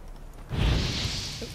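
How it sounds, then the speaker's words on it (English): Igni fire sign cast in The Witcher 3: Wild Hunt: a sudden broad fiery whoosh bursts in after a quiet moment and then rushes on steadily, loud and close. "Now for a shot of Igni."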